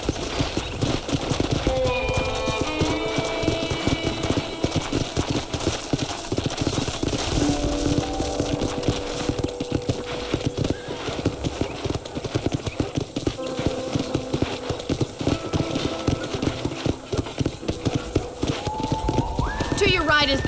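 In a Red Dead Redemption ranch ride, a horse trots steadily with a rhythmic clip-clop of hooves throughout, under a narrator's voice and light western music, and the horse whinnies at one point.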